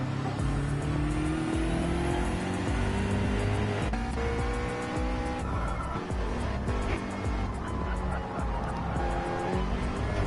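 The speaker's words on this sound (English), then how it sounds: "Changes gear and the McLaren just loses the pull there to the BMW" A McLaren GT3 race car in a racing video game at Watkins Glen shifts gear while dueling a BMW, its engine note dropping and climbing again under a steady, loud roar with tyre noise, close and continuous throughout.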